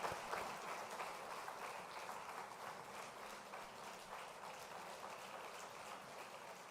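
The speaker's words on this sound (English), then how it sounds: "Let's give them a big round of applause together." Applause for award winners on stage at a women managers' convention, a broad wash of clapping heard faint and distant, holding steady throughout.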